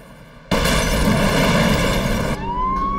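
Fire engine siren as firefighters respond to an apartment explosion in Queens, New York, a loud sustained wail bursting in abruptly and holding steady, with a rising tone emerging near the end.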